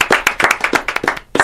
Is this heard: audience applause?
yes